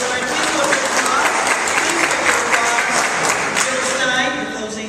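An audience at a Massachusetts gubernatorial candidates' forum applauds after a closing statement, with steady, dense clapping from a crowd for about five seconds, easing off slightly at the end.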